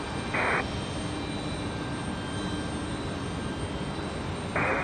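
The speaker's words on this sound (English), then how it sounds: "nice touchdown for FedEx there" A FedEx jet touches down at Raleigh-Durham International, its engines a steady distant roar under broadband rumble, with two short bursts of brighter hiss near the start and end.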